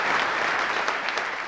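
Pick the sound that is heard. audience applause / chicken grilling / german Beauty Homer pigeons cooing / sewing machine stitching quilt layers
audience applause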